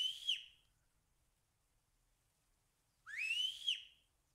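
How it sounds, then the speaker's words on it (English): Whistling from a player character in the VR hunting game Virtual Hunter: two clear rising whistles, a short one at the start and a longer, louder one after a pause, with no talk. "Then you can actually whistle."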